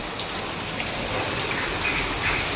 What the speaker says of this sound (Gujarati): અને વરસાદ તો બહુ મજબૂત પડે હ